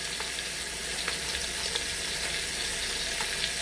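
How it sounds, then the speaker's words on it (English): Garlic sears in a pot with pot roast, a steady close sizzle and crackle of frying with faint pops throughout and no talk. "smell that garlic roasting in there"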